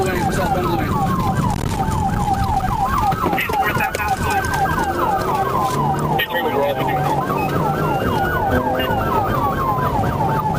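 A police car's wailing siren sweeps up and down repeatedly during a high-speed pursuit, loud and continuous, over the rumble of traffic.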